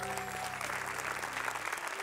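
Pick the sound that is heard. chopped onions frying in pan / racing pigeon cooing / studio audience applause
studio audience applause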